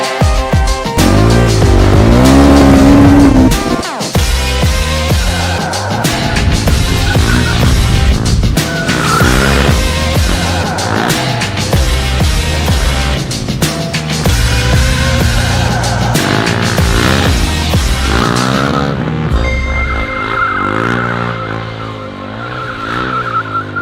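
A motorcycle drifting with its tires sliding and squealing on pavement, a loud, continuous engine roar with shifting revs and screeching skids that run for the whole span, easing near the end.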